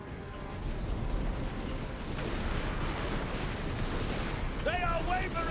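Artillery fire rumbles across a Total War: Warhammer 2 battlefield as a continuous, dense wash of booming shots and distant blasts, loud and sustained, with voices faintly mixed in.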